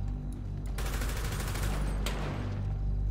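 Dense burst of gunfire in GTA roleplay, rapid overlapping shots filling the whole stretch, loud and close with a sharper volley near the end.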